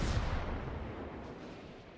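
Naval gun salvo from a warship in World of Warships, a short broadband boom with a rumbling low-end tail that fades over two seconds, heard alone without talk.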